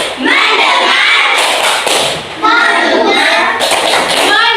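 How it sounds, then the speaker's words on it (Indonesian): A fifth-grade class does a rhythmic group clapping routine, bursts of hand claps and slaps on desks mixed with children chanting in unison, loud and close in a classroom. "Ayo tepuk fokus."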